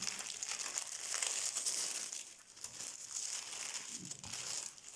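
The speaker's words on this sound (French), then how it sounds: "je vais commencer par ouvrir ce petit paquet" Soft crinkling and rustling of tissue paper as a small package is unwrapped up close, a continuous quiet crackle with slight swells and no talking.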